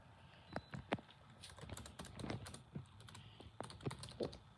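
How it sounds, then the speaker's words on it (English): Keys clack on a computer keyboard in short irregular bursts of taps, close up and fairly crisp, with brief pauses between clusters. "What are you typing?"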